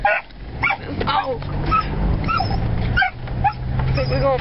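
A dog barks and yips at cows outdoors, bursts of sharp barks repeating close to the microphone over a steady low background hum.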